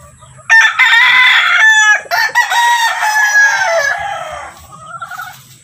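A rooster crows loudly and close, its long strained call followed by softer clucking and chatter from hens.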